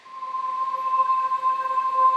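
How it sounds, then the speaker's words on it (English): An Omnisphere English choir synth patch holding a sustained, steady tone with a clear bright pitch and soft overtones, moderately loud and alone. "Here's an Omni English choir"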